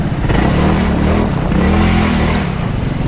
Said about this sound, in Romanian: Îl aud cum ambalează motorul în spatele meu.